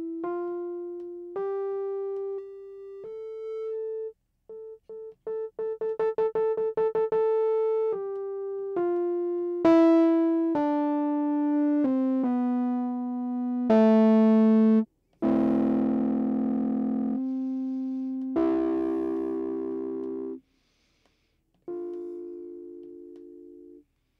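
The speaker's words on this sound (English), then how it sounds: "let's just get some distortion going" Sustained synth-like tones pass through heavy distortion pushed hard in Bitwig Studio, growing grittier and more saturated in places, with short gaps between phrases.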